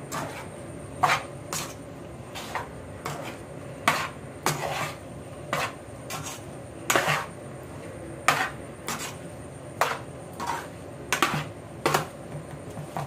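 A spoon stirs lemon rice in a pot, giving a run of sharp, irregular clinks and scrapes of metal on metal at close range, with no talking.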